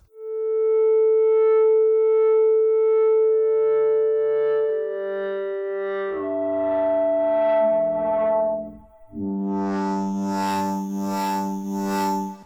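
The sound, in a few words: synth with chorus, vinyl distortion and frequency shifting effects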